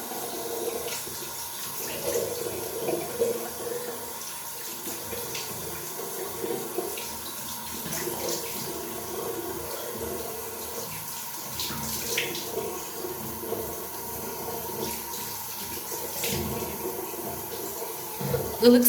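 Tap water runs steadily into a sink during face washing, a continuous close hiss and patter with small splashes throughout.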